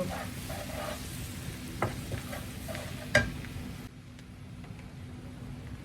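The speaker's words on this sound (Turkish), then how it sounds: "Bunları güzelce bir karıştıralım." Chili powder mixture being stirred in a frying pan, soft sizzling with a few scraping utensil knocks, then quieter near the end.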